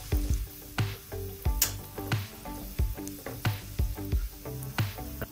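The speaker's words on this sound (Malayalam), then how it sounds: "ഇനി നെയ്യിലേക്ക് നമുക്ക് അണ്ടിപരിപ്പ് ഇട്ട് കൊടുക്കാം." Cashews and raisins frying in ghee for a chicken sausage biryani, a steady close sizzle broken by repeated rhythmic stirring clicks and scrapes of a spoon against the pan.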